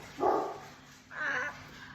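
Two loud dog barks close by, each a short burst about a second apart, in a quiet indoor room upstairs.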